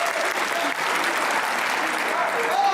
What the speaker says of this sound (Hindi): तो एक बार तालियां होनी चाहिए भाई